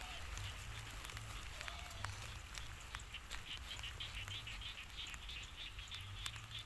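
Small frogs call after rain in the rice fields, a busy patter of faint, quick chirps spread evenly through the scene alongside distant birds, with no talking.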